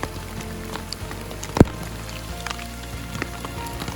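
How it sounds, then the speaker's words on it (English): Hail pellets fall during a mountain hailstorm in the Sierra on the Pacific Crest Trail, a dense steady patter of small hits with one sharp close impact, heard from under a tarp. "Okay, now it's really hailing."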